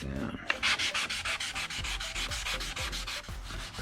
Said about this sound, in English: Just sand this down.